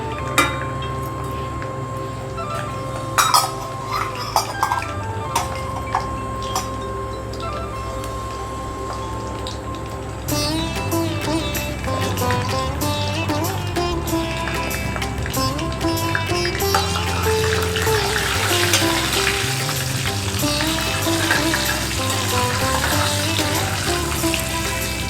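Fenugreek, mustard and cumin seeds crackle and spit in hot oil for a fish curry tempering, sharp pops and drips at first, then a steady, louder sizzle swelling as the seeds fry, close by with no talk.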